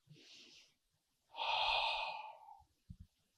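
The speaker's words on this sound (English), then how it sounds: "take a deep breath" One slow, deep breath, a soft inhale followed by a long, full exhale, close and quiet in a still room, then a couple of faint taps.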